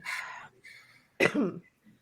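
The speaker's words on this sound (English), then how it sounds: "I'm just going to cough before we start" A single harsh cough stands out near the middle, close and clear, surrounded by a few short breathy throat sounds.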